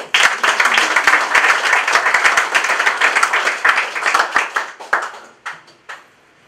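Dense crowd applause at a political rally marking a politician's return, steady clapping from many hands that thins out and fades to a few scattered claps near the end.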